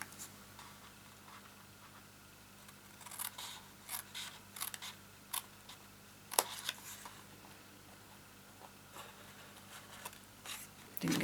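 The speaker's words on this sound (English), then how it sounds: "I'm going to cut a slight mitre on this line here" Scissors make short, crisp snips into card while cutting a straight mitred line, scattered quietly over a low hum with small clicks between cuts.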